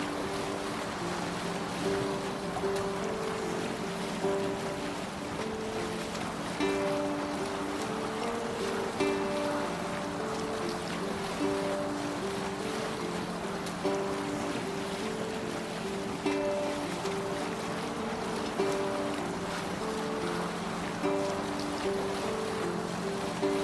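A Viking longship rowing and sailing at sea in Assassin's Creed Valhalla: a continuous wash of waves and water against the hull under wind, with a steady low rhythmic churn and a sustained musical drone throughout.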